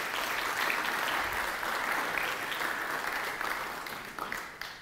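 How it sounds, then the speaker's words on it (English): Steady applause from a church congregation during a Sunday livestreamed service, a dense wash of clapping held for several seconds, moderately distant and fading slightly at the end. "round of applause"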